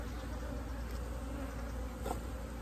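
Dense, steady buzzing of many honeybees close by in a hive opened for a winter inspection, a continuous droning hum with no pauses.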